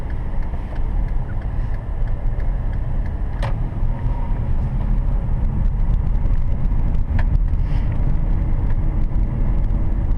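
A car drives at 30 km/h on a snowy road, heard from inside as a loud, steady engine and road rumble with a couple of faint clicks and no talk.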